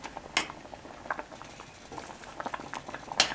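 A stovetop pot of food with basil bubbles and pops in soft irregular bursts, close and fairly quiet, with faint clinks of cookware mixed in.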